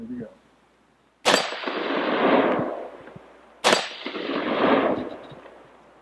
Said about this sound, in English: First shots are going to be in the AR500. I'm going to be shooting the left target.